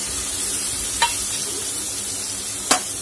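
Finely chopped onion sizzling in hot oil in a kadhai, a steady close frying hiss with two brief sharp clinks of a spoon or pan partway through.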